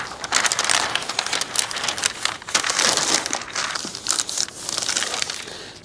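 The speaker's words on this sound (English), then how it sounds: "I'm just gonna tape it up and then roll this over so it'll leave a soft edge." Masking tape is pulled out and rolled back over itself on a car body panel, giving close, crackly crinkling and tearing bursts in an uneven rhythm with no voices.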